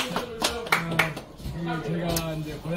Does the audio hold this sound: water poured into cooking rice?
no